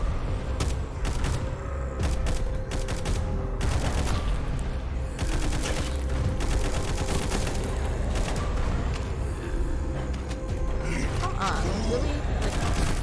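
Rapid, loud gunfire from the zombie shooter game Frontline Zed, repeated volleys and bursts crackling continuously with mechanical clanks, dense and close throughout.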